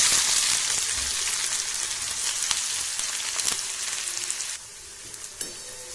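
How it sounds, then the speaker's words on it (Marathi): Finely chopped onion fries in hot oil with bay leaf, a cinnamon piece, cloves, peppercorns and cardamom, giving a steady close sizzle with soft stirring scrapes that eases off toward the end. "हा कांदा चांगला लाल होईल तोपर्यंत परतवायचा"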